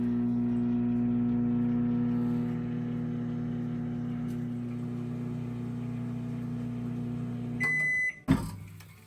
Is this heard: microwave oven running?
yes